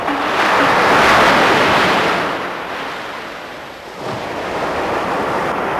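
Sea waves wash onto the coast, a loud, continuous roar of surf that swells and recedes, with a second surge building toward the end and no voices.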